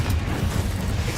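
A Confringo spell cast in a wizard video game: a brief, loud, rumbling explosive blast of broad noise, heavy in the low end, heard alone.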